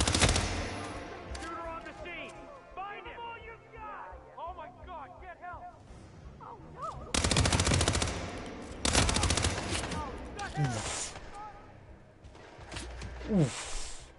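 Bursts of automatic gunfire in a shooter video game, several loud rattling volleys around the middle and end, layered over game music and effects.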